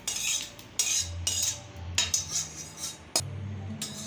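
Utensils clink and scrape against a dish while fried egg is stirred into homemade pasta, several close, sharp metallic taps with soft mixing between them, no talking.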